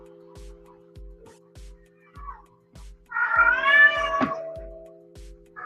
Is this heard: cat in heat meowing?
yes